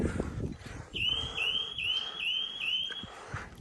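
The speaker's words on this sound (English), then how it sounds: "you can hear and see the dock lifeguard alarming" A Dock Lifeguard electricity-in-water detector alarm on a dock chirps in a quick repeating series of five rising beeps over outdoor background noise and faint knocks.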